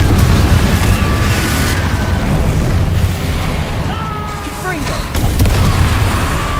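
Fiery Confringo spell blasts booming in Hogwarts Legacy, loud repeated bursts over a dense continuous rumble, with a brief dip midway before the blasts resume.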